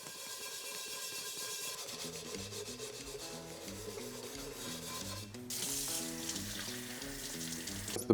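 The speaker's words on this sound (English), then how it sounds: "A little more there, I gotta scrub." A stainless steel pan scrubbed with Barkeeper's Friend cleanser gives a steady, continuous rubbing rasp that runs throughout, with tonal background music underneath.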